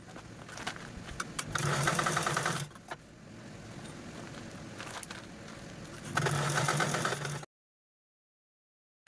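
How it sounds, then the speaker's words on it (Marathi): A sewing machine stitches the bottom base of a bag made from old saree lace, running in two steady motor bursts separated by a quieter pause, close and alone without talk. "इथे अशा पद्धतीने पकडून यावरती स्टिच करून घ्यायचं आहे"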